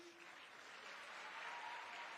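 A crowd claps steadily, a dense even patter of applause that holds for a couple of seconds, heard from a little distance.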